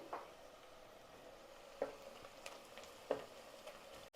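Onions and green chillies frying lightly in a pan for a fish curry, a faint steady sizzle with a few soft stirring scrapes and taps spaced across the moment, no voices.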